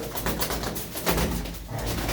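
Frilled pigeons coo in short, deep, throaty bursts close by, with a steady rumble of background noise underneath.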